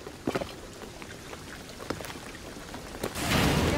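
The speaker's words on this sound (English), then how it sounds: "the rain is gonna flood this place." Rain pouring down in the video game Shadow of the Tomb Raider, a steady hiss broken by scattered drop-like ticks, swelling into a louder, denser downpour near the end.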